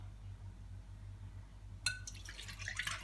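After a quiet stretch with a low hum, milk is suddenly poured into a container for Yorkshire pudding batter, splashing and gurgling steadily to the end.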